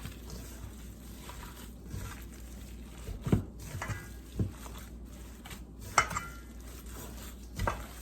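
Meatball mixture being mixed by hand with breadcrumbs in a bowl, giving soft wet squishing and stirring sounds with occasional louder knocks and scrapes against the bowl, close and fairly quiet, with no talking.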